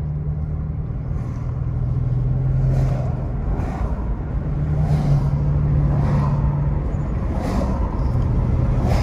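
Steady rumble of a car descending a mountain highway into Big Bear, tire and engine noise holding a constant drone close by with a faint rising and falling hum and no talking.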